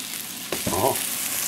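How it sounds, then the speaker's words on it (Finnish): Sausages fry in a pan with a continuous loud sizzle and crackle, broken by a brief scraping or stirring sound. "Ja kypsennellä ne tässä paistin pannulla."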